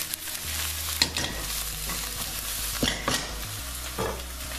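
Aubergine and potato curry being stirred as it fries in a pan, with steady close sizzling and a few sharp scrapes and knocks of the spoon against the pan.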